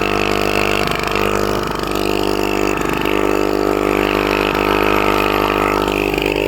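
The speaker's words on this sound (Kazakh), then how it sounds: "Міне шундай мотор ішлеп тұра" A motor runs steadily at idle, a constant low droning hum with a few faint knocks, close and loud throughout.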